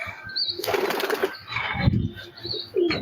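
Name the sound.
pigeon flapping wings when released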